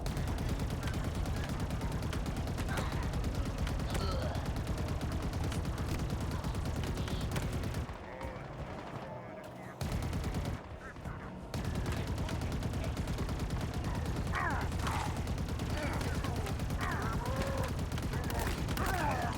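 Sustained turret gunfire in Halo Infinite, a dense, continuous stream of shots, loud and steady, broken by a short lull in the middle, with voices under the firing.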